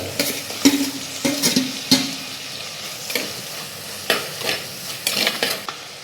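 Chopped tomato and green chillies frying in a pan, a close sizzle broken by repeated clinks and scrapes of a utensil stirring against the pan, with no talking.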